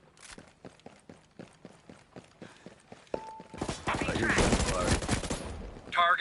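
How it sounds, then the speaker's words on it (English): Gunfire in Ghost Recon Breakpoint starts as a steady series of evenly spaced single shots. A tone cuts in, then a loud, sustained volley of rapid automatic fire follows, with voices heard along the way. "I hear gunfire."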